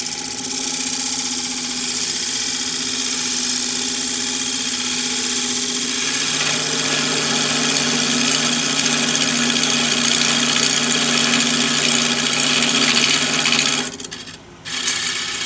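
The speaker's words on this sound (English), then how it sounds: "I'll stop here in a minute and sharpen this big gouge." A big woodturning gouge ground on a sharpening machine in a turning workshop, a loud continuous motor drone with a steady grinding rub whose pitch shifts midway, cutting off briefly near the end.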